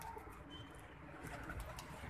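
Low, continuous pigeon cooing hums through the short stretch, steady and fairly quiet with no talking.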